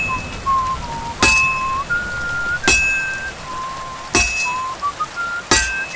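Hammer on hot metal at a blacksmith's forge in Kingdom Come Deliverance 2, out in the rain: four sharp metallic clinks spaced roughly a second and a half apart, ringing over steady rainfall and thin whistling tones.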